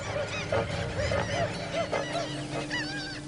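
A huge flock of thousands of waterbirds roosting at night on Corumbá International Airport in the Pantanal, Brazil, keeps up dense, continuous honking and calling, loud and close, with overlapping goose-like cries throughout.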